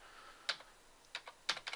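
A computer keyboard's up arrow key pressed repeatedly while working in 3D rigging software, giving a few close, crisp clicks in uneven bursts, with no voices.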